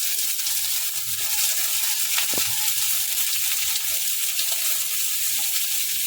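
Garlic and onion frying in a hot pan, a steady close sizzle with a brief clatter of stirring midway and no talking.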